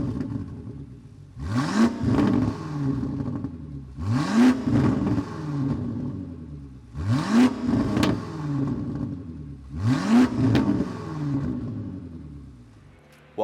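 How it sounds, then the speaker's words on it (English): A Range Rover Sport fitted with Redstar downpipes and a Quicksilver exhaust is revved four times in a row, each blip rising sharply and falling back to a steady idle, loud and close with no talking. "give it a couple revs so we can hear what it sounds like"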